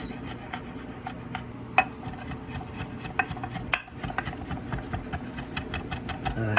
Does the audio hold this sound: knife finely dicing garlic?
yes